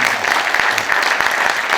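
Sustained audience applause at a memorial ceremony for General Paik Sun-yup's first death anniversary, a dense steady clapping wash lasting throughout with no pauses.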